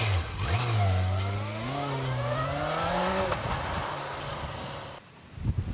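A 1998 Yamaha YZF R1 sport motorcycle engine revs repeatedly, its pitch climbing and rising in waves, loud and close, before dropping off into a brief quieter idle.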